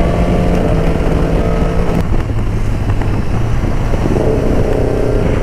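Two-cylinder motorcycle engine with an open muffler, on a ride to Batangas, rumbling steadily and loudly up close with a low throbbing tone, mixed with heavy wind buffeting, with no talk.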